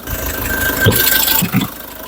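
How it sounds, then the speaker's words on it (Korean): SsangYong Rexton Sports Khan engine idling with the hood open, a loud, steady low rumble with a light rattle and a brief bump near the end, close up and without talk. "엔진 사운드 체크하고 영상 마무리하겠습니다"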